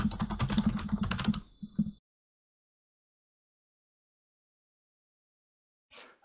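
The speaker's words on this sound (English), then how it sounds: "Sorry for the very loud typing, yeah. Sounds like a nice keyboard though." Fast, loud clacking of computer keys for about two seconds, then near silence, with a short burst of keystrokes at the very end.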